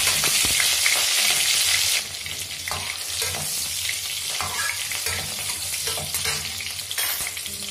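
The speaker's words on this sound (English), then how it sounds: "once the chilies are fried nicely" Green chilies and cumin seeds fry in hot oil for Maharashtrian sabudana khichdi, an intense close sizzle for the first two seconds that then settles into a softer, steady crackle with stirring.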